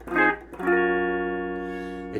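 A Dean Markley K-20 guitar amp on its clean channel, with no effects, rings out a brief strummed chord followed by a second chord that sustains clearly and slowly fades, loud and close.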